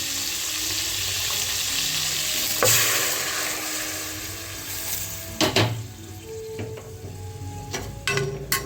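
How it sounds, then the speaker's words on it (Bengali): Chillies fry in oil as hot water goes in for a light pabda fish curry, bringing a steady hiss of sizzling followed by a few sharp clinks and scrapes of a utensil against the pan, with no speech. "লঙ্কা তেল ছেড়ে এসছে এবার আমি গরম জল দিয়ে দেবো"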